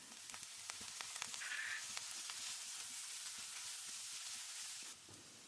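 Onion sautéing in a pan with crushed ginger and garlic for a squid roll filling, a soft, steady sizzle with occasional light stirring taps, close but fairly quiet, no speech.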